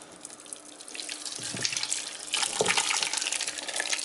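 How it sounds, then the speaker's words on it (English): Water runs from a kitchen tap as a pan is rinsed at the sink, a close steady gush that grows louder and splashier partway through. "I'm going to wash the pan, rinse it with a little bit of water."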